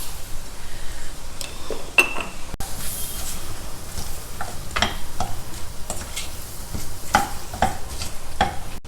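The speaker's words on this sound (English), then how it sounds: "Toss them together and let them cook in this butter for just 2 or 3 minutes." Vegetables for a South Indian vegetable stew tossed and cooked in butter in a pan: a steady sizzle throughout, with scraping stirs and occasional sharp metal clinks, no talking.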